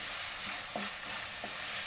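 Onions and tomatoes for a fish curry fry in a pan, giving a soft, steady sizzle with a couple of faint stirring taps, quiet and without talk.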